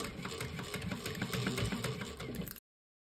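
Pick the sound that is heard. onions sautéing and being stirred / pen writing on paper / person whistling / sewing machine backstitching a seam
sewing machine backstitching a seam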